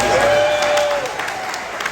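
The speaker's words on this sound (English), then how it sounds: "Can we give them a big round of applause?" Audience applause for the Olympic Theater venue at a podcast awards night, a steady dense wash of clapping from a crowd, fairly loud and close, with a faint tone drifting underneath.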